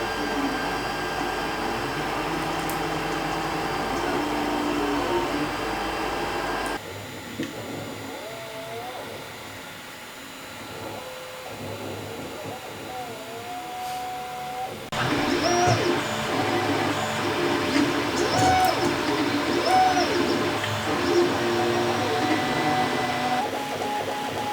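A 3D printer running steadily, with a continuous mechanical hum and shifting stepper-motor whines and tones, moderately loud and close throughout.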